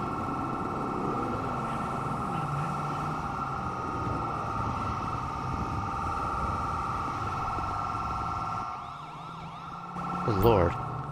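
An emergency vehicle siren in GTA V's FiveM roleplay, heard alongside a deputy's patrol, holds a loud, steady tone with layered harmonics for most of the stretch before shifting into a brief rapid warble near the end.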